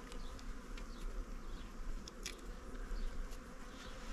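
Italian Cordovan honeybees hum with a faint, steady buzzing drone, with a few brief louder passes of individual bees close by.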